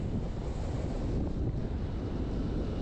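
Cold wind buffets the microphone on a freezing Lake District summit at minus thirteen degrees, a loud continuous low roar with no voices.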